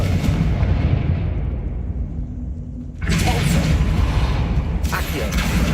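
A Confringo blasting spell goes off in the Hogwarts Legacy game with a loud, close burst, and a second blast follows shortly after over continuous game rumble.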